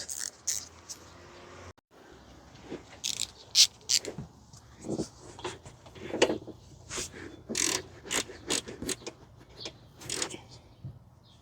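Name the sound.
tightening throttle body bolt with a ratchet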